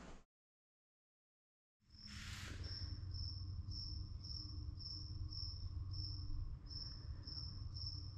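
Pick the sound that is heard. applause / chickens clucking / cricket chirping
cricket chirping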